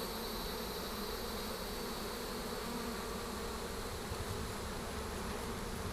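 Honey bees swarming in a swarm box make a quiet, dense, unbroken hum that holds steady the whole time, with one brief spoken word.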